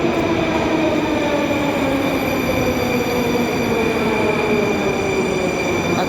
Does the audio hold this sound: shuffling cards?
no